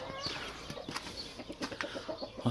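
A small flock of seven or eight chickens clucks in a coop, soft scattered clucks and murmurs at close range, fairly quiet.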